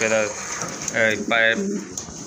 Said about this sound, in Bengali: খুবই সুন্দর সুন্দর এক জোড়া কবুতর